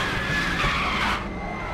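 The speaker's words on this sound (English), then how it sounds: "those tyres are definitely locked up now" Race car tyres locking and skidding under hard braking into a corner at the Norisring in RaceRoom, a loud screeching squeal over the engine roar that cuts off abruptly after about a second.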